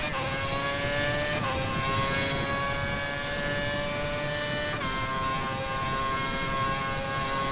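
Formula 1 car engine in the F1 2011 racing game at Montreal, a loud, steady high-revving whine with stepped gear shifts near 1.5 and 4.8 seconds, continuous and close with no talk.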